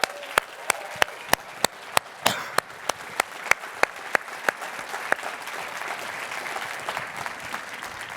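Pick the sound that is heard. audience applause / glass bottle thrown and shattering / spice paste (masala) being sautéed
audience applause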